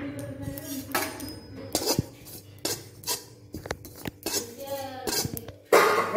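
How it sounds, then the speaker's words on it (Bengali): Radhuni seeds dry roasting in a kadai over a low flame, heard as a run of sharp metallic clinks and scrapes as a utensil stirs them, close and fairly loud, with quiet gaps between. "রাঁধুনিটা আমার ড্রাই রোস্ট হয়ে গেছে"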